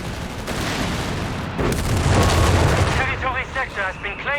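Heavy gunfire and explosions in the Company of Heroes 3 strategy game, with rapid bursts and booming blasts piling up loudly, then a sharper crackle of staccato shots near the end.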